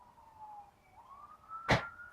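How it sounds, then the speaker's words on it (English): A police car siren wails faintly from a distance, rising and falling in a thin tone, heard from inside a kitchen, with a brief sharp clatter close by near the end. "It's a police car."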